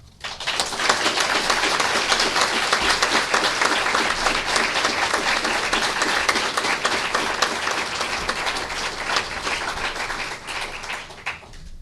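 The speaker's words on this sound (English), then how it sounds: "Let's celebrate this moment with a warm applause." Warm, sustained applause from a ceremony audience at the SINAES accreditation certificate event, dense clapping swelling quickly and holding steady for several seconds before slowly thinning.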